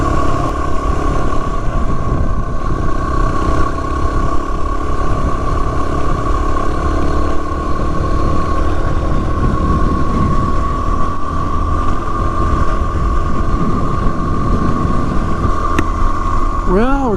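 Motorcycle climbing a hill on a backcountry trail in Wyoming, a loud steady engine drone under heavy wind buffeting, constant throughout, with a voice faintly mixed in.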